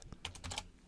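Soft, quick keyboard typing, several light keystrokes in a short irregular burst, faint and close, with no speech.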